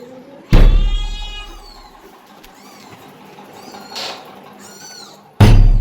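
A domestic cat meows several times, with drawn-out, close-up cries separated by pauses, plus a couple of sharp thumps and loud bumps near the mic.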